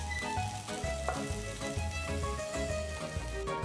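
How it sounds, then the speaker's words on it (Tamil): Sliced onion and chopped garlic sauté in sesame oil in a pan, giving a steady, soft sizzle and crackle under background music. "1 மீடியம் சைஸ் வெங்காயம் நீல வாக்கில் நறுக்கி போட்டு வதக்குங்க."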